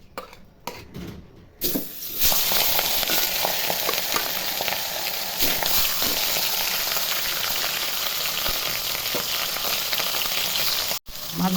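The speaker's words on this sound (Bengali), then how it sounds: "তেল গরম হয়ে গেছে, মাছগুলো ভেজে নিব।" Rohu fish pieces frying in hot oil give a loud, steady sizzle and crackle that starts after a couple of seconds of quieter clatter and holds close up, with a brief drop near the end.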